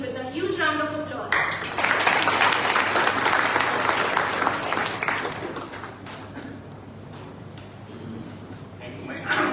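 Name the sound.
audience applause welcoming a speaker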